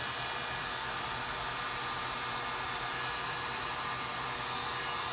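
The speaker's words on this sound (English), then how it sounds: "This might not be a strong enough heat gun to work this stuff, or it might just take a long time." Heat gun blowing hot air on a rat rod truck part, a steady even rushing whoosh, close and unbroken throughout.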